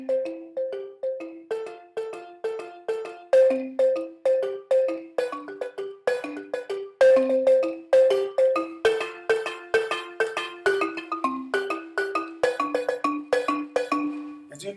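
A baritone steelpan plays a lively, bouncing melodic line of quick ringing struck notes, alone and close, with clear metallic tones that decay between strikes.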